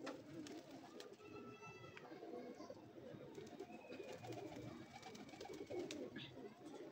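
Pigeons cooing at a home loft, a steady bed of soft low cooing with a few higher chirps and calls over it, continuous and close, without talk.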